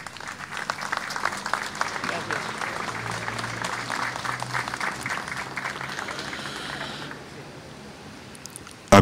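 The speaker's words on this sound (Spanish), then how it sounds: "El aplauso para esta nueva unidad, por favor." A crowd at a citizen security committee ceremony applauds steadily for several seconds, the clapping dense and even before it fades away near the end.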